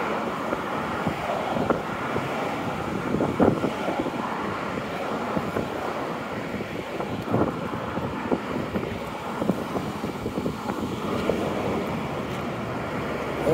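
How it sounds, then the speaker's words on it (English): Strong wind buffets the microphone with constant rumbling and gusty bursts, a steady roar throughout with faint background traffic. "extremely windy right now"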